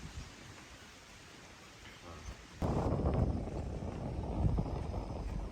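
Strong wind roars on the summit climb of Dukono volcano, quieter at first and then suddenly gusting loud, a broad rushing noise buffeting the microphone with no voices.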